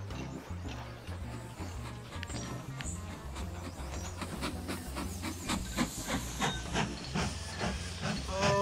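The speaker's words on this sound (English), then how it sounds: "We are going to start this train up again." Steam locomotive running in the train-building game Mashinky, a steady rhythmic chuffing with hissing steam and repeated low mechanical beats, loud and continuous throughout with no talking.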